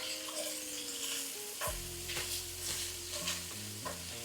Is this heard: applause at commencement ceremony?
no